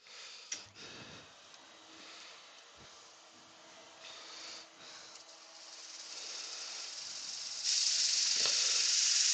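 Dust extractor in a woodturning workshop during work on a cherry wood bowl, a faint hissing whoosh that grows steadily louder over several seconds, with a few light knocks near the start.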